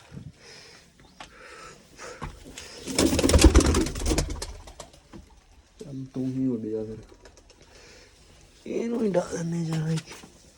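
Pigeons coo in two short, throaty bursts, with rustling and muffled voices between them.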